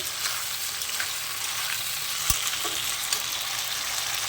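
Flat bean paste frying in a pan with turmeric and salt gives a soft, even sizzle with light stirring taps and one sharp knock, steady and close without voices.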